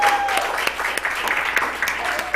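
Audience applause at a panel discussion on transgender rights, a steady patter of clapping across the room lasting a couple of seconds, fairly loud and uninterrupted.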